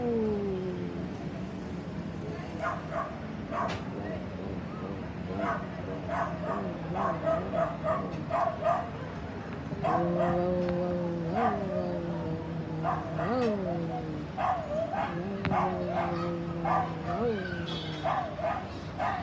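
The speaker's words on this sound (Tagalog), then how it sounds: "Mawa naman yung aso." A dog yips, barks and whimpers at night in a city, sounding at a distance as a string of sharp repeated yelps and whining cries over steady rain and traffic hum.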